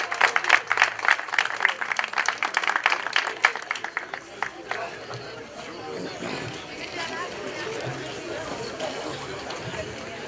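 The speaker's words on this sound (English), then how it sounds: "Let's give her a round of applause." Enthusiastic clapping from a crowd at a museum grand opening for about four seconds, then fading into a murmur of chatter and background noise.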